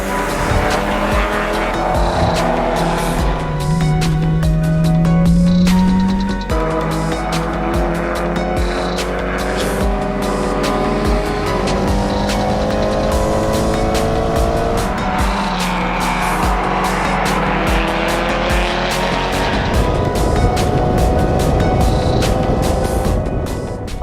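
Mitsubishi Evo 9 MR lapping a track at a time attack event, loud engine revving up and down through gear changes with rising and falling pitch sweeps, tire squeal and passes throughout.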